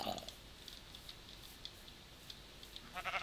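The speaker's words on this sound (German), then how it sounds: "Warst du das Schaf?" A faint, brief Minecraft sheep bleat at the very end of a quiet stretch, preceded by soft ambient game sounds and light clicking.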